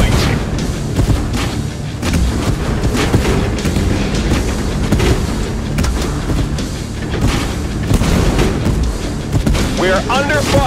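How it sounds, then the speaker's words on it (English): Constant booming cannon fire and explosions from a tank battle video game, loud and dense throughout, with sharp blasts layered over a rumbling low roar and occasional shouted voices mixed in. "We are under fire!"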